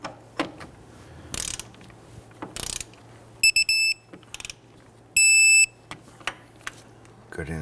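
A ratchet wrench tightens the strut bolts on a 2011–2015 Kia Sorento during a front CV axle replacement. Quick bursts of clicking ratcheting mix with metallic knocks and high pinging tones, up close.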